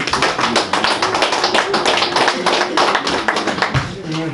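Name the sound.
audience applause at a 50th birthday celebration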